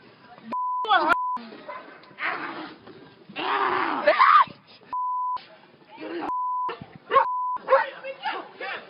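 A dog barks and whimpers amid a chaotic street scene, loud and close, with repeated censor beeps cutting across shouting voices throughout.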